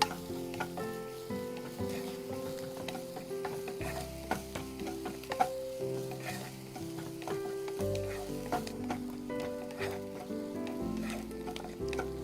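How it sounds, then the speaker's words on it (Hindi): Onions fried in a pan and stirred until pink, with a continuous sizzle and scraping stir sounds under steady tonal background music. "गुलाबी होने तक चलाते हुए चारों तरफ से इसे फ्राई करना है"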